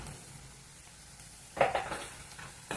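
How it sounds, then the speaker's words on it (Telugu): Turmeric with freshly pounded ginger and garlic frying in a pan for a paneer kadai masala curry, giving a quiet, steady sizzle broken by a few brief scraping stirs near the end. "కొంచెం పచ్చివాసన పోయేంత వరకు వేయించుకున్నాము."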